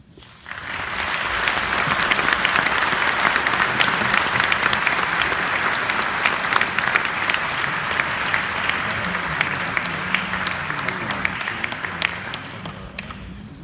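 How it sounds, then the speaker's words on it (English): Sustained applause from an audience at a university lecture on environment and sustainable development, dense steady clapping that swells quickly and holds for over ten seconds before tapering, with little talk. "Let's give again a big hand of applause to Dr. Wichmann."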